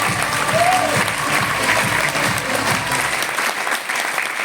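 An audience claps at a sales team gathering. The dense applause is close and loud at first, then thins out toward the end, with a voice rising briefly under it.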